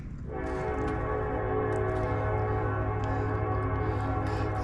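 A train passes nearby, its horn sounding in a loud, sustained, harmonic blast that holds steady for several seconds over rumbling rail noise.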